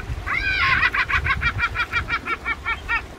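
A laughing gull gives a run of about a dozen loud, nasal, harmonic notes that sound like human laughter. The notes come in a steady rhythm that slows slightly, starting with a longer drawn-out note and followed by evenly spaced short bursts.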